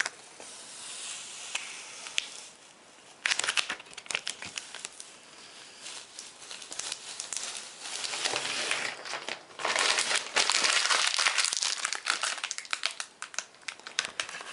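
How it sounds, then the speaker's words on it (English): Transfer tape peeled off an applied vinyl graphic on a board, giving crackling, crinkling bursts that come and go across the stretch, louder in later pulls, with no talking. "So we can now go ahead and remove the transfer tape."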